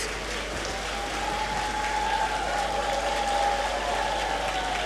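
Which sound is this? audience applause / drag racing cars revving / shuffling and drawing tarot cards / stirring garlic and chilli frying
audience applause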